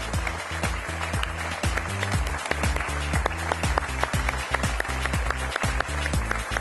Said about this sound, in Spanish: disfruten del merecido aplauso que están recibiendo en este momento